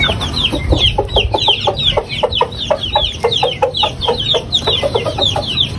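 A group of Aseel hens clucks busily while eating. The soft, rapid, overlapping clucks sound close and steady, with no talking.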